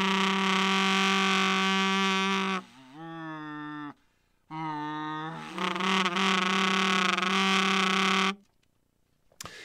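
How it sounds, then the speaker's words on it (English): A raspy, buzzing saxophone growl, rough and distorted from humming while blowing, in two long sustained phrases with a brief pause between. "there's two main ways of growling on sax"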